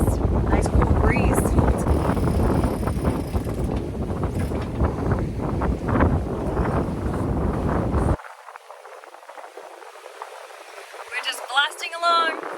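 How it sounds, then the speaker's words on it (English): Strong wind of almost 17 knots roars across the microphone on a sailing boat at sea under mizzen and jib, with creaking rigging and a person talking over it before the gusts drop away. "We've got about almost 17 knots of wind."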